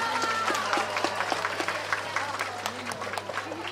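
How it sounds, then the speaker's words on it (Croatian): Audience applause for a hosting folk ensemble at the Jorgovan fest in Miroč, Majdanpek, an outdoor cultural festival: steady clapping from a crowd, fairly close, with voices mixed in throughout. "Još jedan veliki aplauz za domaćine"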